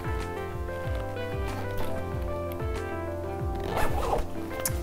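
The side access pocket of a Wandrd VEER packable backpack being zipped closed, giving a series of quick, close, rasping zipper pulls that repeat rhythmically across the clip.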